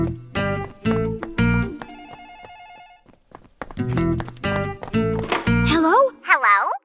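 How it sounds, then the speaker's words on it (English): Telephone ringing on a library desk in an animated children's podcast story, repeated ring bursts in quick rhythm, with a voice speaking among them. "That's The phone!"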